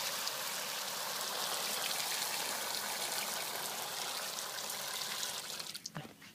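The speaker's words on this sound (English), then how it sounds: "while the rain is falling" Rain falls on a solar panel as a steady, dense hiss of droplets that holds evenly, then thins out near the end.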